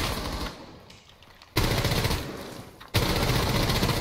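Bursts of rapid machine-gun fire in a video game, loud and close, with dense continuous volleys separated by short quieter gaps.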